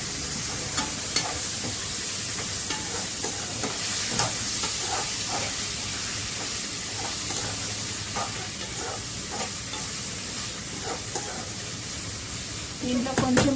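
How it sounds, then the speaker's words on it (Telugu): Cut tomato pieces added to onions frying in a pan give a steady, close sizzle with light stirring scrapes, continuing throughout. "దాంట్లో కట్ చేసుకున్న టమాటా ముక్కలు వేసేసుకుంటున్నాను."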